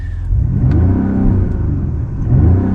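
A 2023 Mercedes GLE 53 AMG six-cylinder exhaust, with its exhaust valve open, rumbles loudly and steadily, with a deep, throaty drone that swells slightly toward the end.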